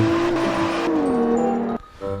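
Drifting car in the racing game CarX Drift Racing 2 with the handbrake held, a loud steady engine tone sliding down in pitch with tire noise, then cutting out abruptly near the end before resuming.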